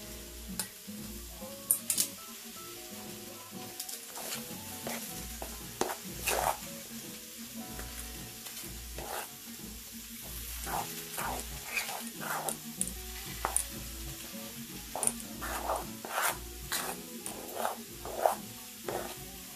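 A spoon stirs a thick mixture for a Juneteenth dish until it turns dough-like, making repeated soft scraping and clicking strokes in an uneven rhythm, close by and fairly quiet, with no talking.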